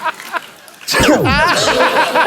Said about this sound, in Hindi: अरे आपकी तो छींकने की टाइमिंग ही बड़ी अच्छी है